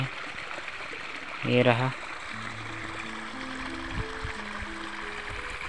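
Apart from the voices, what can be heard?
water flowing from irrigation canal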